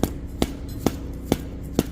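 A worn hammer taps a part into a Massey Ferguson DL260 loader cylinder during a rebuild, giving five sharp, evenly spaced metallic knocks, close and loud over a low background hum.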